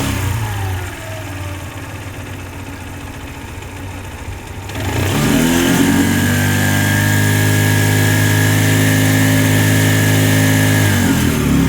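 A Chinese 125cc motorcycle engine runs with a rough low drone, then picks up sharply around the midpoint into a louder, steady revving tone that holds close and strong to the end, with no talk over it.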